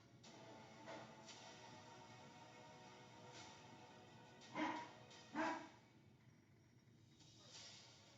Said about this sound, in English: that noise you just heard is our dog downstairs